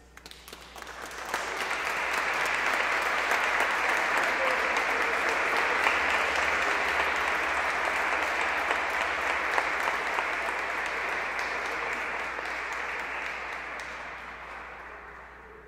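A church congregation applauds during a baptism at Sunday Mass, the clapping swelling in quickly, then holding as a full, steady wash of many hands before slowly tapering toward the end, with no speech over it.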